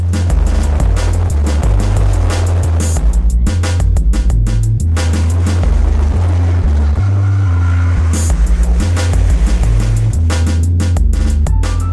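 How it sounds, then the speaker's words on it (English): A Subaru STI and a Mitsubishi Evo 9 Lancer race around Wakefield circuit, with loud, steady engine roar close by, shifting pitch through gear changes and surging on the straight. "Chasing the MRT STI, it was obvious how much power the STI has, especially down the straight"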